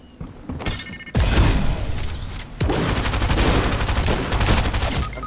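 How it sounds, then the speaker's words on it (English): Rapid bursts of gunfire from Fortnite squads play, a dense fusillade of overlapping shots, loud and close, starting after a quieter first second and continuing steadily to the end. "Oh no, there's a guy shooting."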